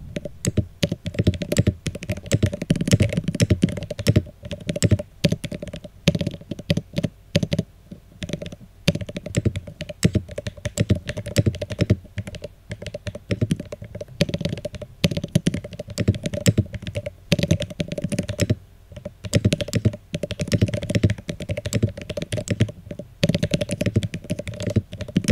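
A Luminkey Magger 68 HE keyboard with Gateron magnetic switches is typed on steadily, producing dense, rapid clacking keystrokes with short pauses, close and clear with no talking.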